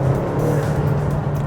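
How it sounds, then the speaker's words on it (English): A 2021 McLaren GT's twin-turbo V8 mounted behind the cabin drones steadily and close, a continuous engine hum with faint airy turbo whistle above it. "It sounds magnificent. You can hear the whistle of the turbos."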